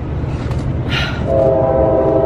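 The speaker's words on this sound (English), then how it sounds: "oh, there's a train" A train rumbles past nearby with a steady low roar, and a loud horn blast sounds partway through, continuing over the rolling noise.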